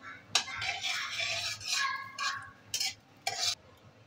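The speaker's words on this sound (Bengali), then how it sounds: "আমরা ঠিক এই পর্যায়ে কালো জিরা আর মৌরিটা অ্যাড করে দিলাম। এটাকে খুব সুন্দর করে আমরা তেলে হালকা ভেজে নিব।" Nigella and fennel seeds fry lightly in a small amount of oil for a sweet-sour raw mango pickle. Soft sizzling mixes with spoon-stirring scrapes in uneven bursts, fairly quiet and close.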